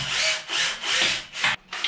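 Screws being driven into a shower enclosure profile during a bathroom installation, a close series of about five rasping, grinding bursts in quick rhythmic succession with short pauses between them.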